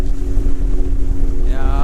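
A motorboat runs across the water during a pike-fishing trip, its engine a loud, steady low drone mixed with wind buffeting the microphone, and a brief rising whine toward the end.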